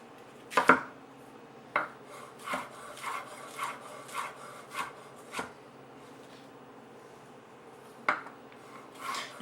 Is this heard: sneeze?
no